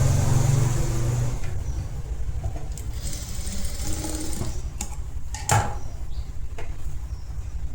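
A sewing machine stitches blouse fabric with a close, steady mechanical whir and rapid needle chatter that eases off early and continues as a quieter hum.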